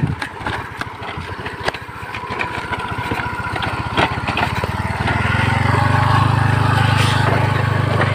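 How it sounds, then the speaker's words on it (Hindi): A small scooter engine buzzes while being ridden, rising into a louder, steadier hum near the microphone in the second half. "पता नहीं कि मेरा गाड़ी बहुत आवाज कर रहा है"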